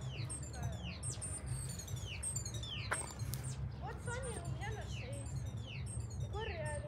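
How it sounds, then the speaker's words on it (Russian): A small bird sings in a residential courtyard in Snezhinsk, Russia, with repeated quick chirps and whistled phrases over a low, constant background rumble. "Я думал, это музыка. Это птичка поет"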